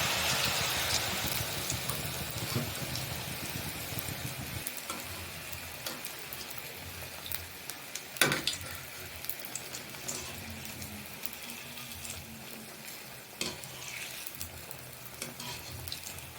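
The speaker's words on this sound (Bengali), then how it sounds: "আস্তে করে আমি ব্যাটারটাকে এতে দিয়ে দিচ্ছি" Pitha batter fries in hot oil with a steady, moderately quiet sizzle and crackle that continues throughout, broken by a few sharp clinks and pops and no talking.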